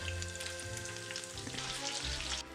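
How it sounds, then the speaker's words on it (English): Onions frying in bacon grease in a pan, a close, steady crackling sizzle with scattered pops throughout, no talking. "We're about to cook those onions in this bacon grease."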